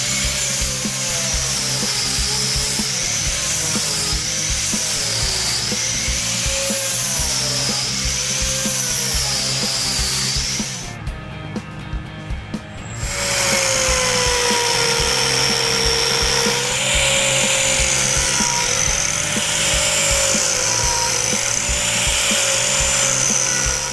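An Arbortech TURBOPlane power tool shapes wood with a loud, continuous grinding whine that briefly stops for about two seconds midway before resuming at full strength.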